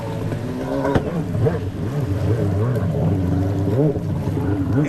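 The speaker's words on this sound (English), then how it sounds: "He's got himself a Leastone Products Revolver with a DASA 1200 engine" A Leastone Products Revolver freestyle jet ski with a DASA 1200 engine runs steadily at close range, its motor droning as the pitch swells and dips through the run, with water noise underneath.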